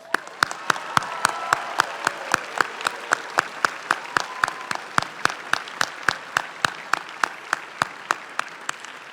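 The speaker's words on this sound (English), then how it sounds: "I think you owe yourselves a big round of applause." A graduating chemistry class at a 2018 commencement ceremony claps in a sharp, evenly spaced rhythm, each crisp clap standing out clearly over a soft murmur for about nine seconds.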